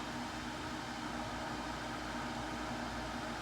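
A MegaHome countertop water distiller runs with a steady, even whir and hiss, a constant mechanical drone with a faint low hum beneath it and no voices.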